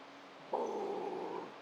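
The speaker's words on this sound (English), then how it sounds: "That's a good bark." A dog gives one sustained, low, growly bark-like vocalization lasting about a second, fairly close and moderately loud against a quiet background, in a gym during an arms and chest workout.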